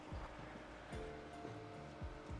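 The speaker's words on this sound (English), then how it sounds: "you have the two fountains coming out of the bowls, plus the waterfall there" Backyard pool fountains pouring from two bowls and a waterfall at a Las Vegas home, a continuous broadband splashing wash with occasional louder surges, steady and fairly close.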